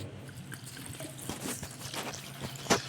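Water is poured into an organic fertilizer mix in a container. A soft, steady trickle and pour sounds close by, with a few small splashes and drips near the end.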